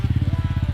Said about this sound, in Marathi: इंजिन ब्रेकिंग करणार आहे.